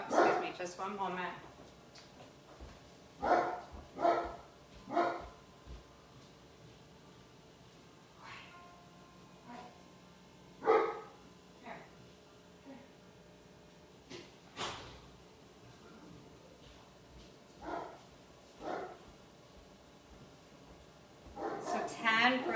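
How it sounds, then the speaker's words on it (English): A dog barks in repeated short bursts, some near and some farther off, with yips and whimpers, during a calm indoor yoga class where a voice speaks between the barks. "I apologize about the barking dog."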